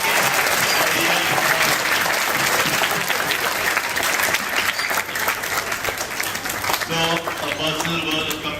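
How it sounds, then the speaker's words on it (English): A school audience gives sustained applause for the secondary section's student leaders, loud continuous clapping from a large crowd that keeps going throughout, with some voices rising near the end. "give them a very good round of personal applause"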